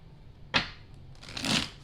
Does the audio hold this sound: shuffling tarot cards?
yes